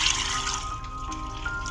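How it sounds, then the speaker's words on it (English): Water pours into a kettle in a video game kitchen, a steady broadband gush with a bright splashing top, continuous and close for under two seconds with no talk. "Add water to kettle."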